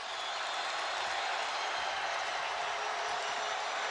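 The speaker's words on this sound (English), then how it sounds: "Another standing ovation from the sold-out crowd." A sold-out basketball arena crowd at an NBA game gives a standing ovation, with steady, dense broadband applause and crowd roar holding evenly loud throughout, no gaps or individual voices standing out.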